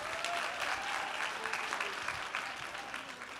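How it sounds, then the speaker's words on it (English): An audience at a speaking event gives a round of applause, steady mid-level clapping throughout with faint voices beneath it. "So give them a round of applause"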